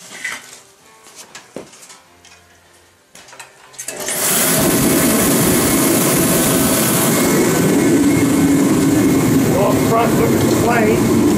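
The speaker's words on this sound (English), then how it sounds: "you want to fire the heater up" A Ready Heater 170T forced-air kerosene heater fires up after a few seconds of quiet handling noises, then roars loudly and steadily as a broad, continuous rush of combustion and fan noise close by.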